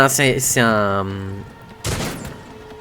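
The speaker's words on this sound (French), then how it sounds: "J'avais oublié que Mort il a un canon plasma à longue portée" A plasma cannon weapon fires in the Warhammer 40,000 Rogue Trader video game, a sudden loud blast with a noisy burst and decaying tail, following a harmonic tone from the game.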